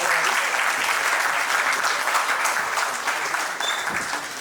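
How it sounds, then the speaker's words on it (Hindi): An audience at a performance claps loudly on request, a continuous, dense burst of applause that stays strong throughout and eases off only slightly near the end. "एक बार जोरदार ताली बजाएं।"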